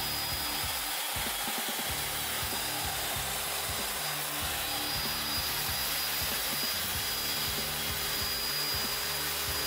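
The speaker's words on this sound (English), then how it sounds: "And now we're turning on the heat gun." Heat gun and chop saw running at once while powered from a MidNite Solar Rosie 7048 inverter, a loud, steady blowing roar with a low, pulsing rumble beneath it, continuous and close, with no talking.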